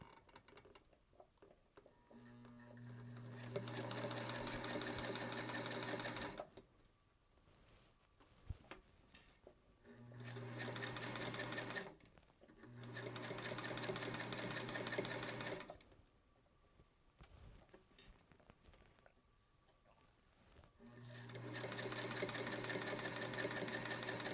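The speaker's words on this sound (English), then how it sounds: "I'll grab the threads and we'll start sewing." A Singer Featherweight sewing machine runs in four bursts of fast, steady mechanical whirring and rapid needle chatter, separated by quiet pauses with small clicks and handling noises, close and without speech.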